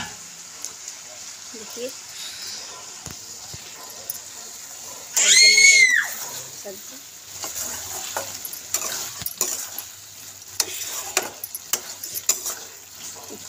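Vegetable curry frying in a home kitchen pan with rice cooked beside it, a loud burst of sizzling and stirring mid-clip, then softer scraping and utensil clicks while someone talks throughout.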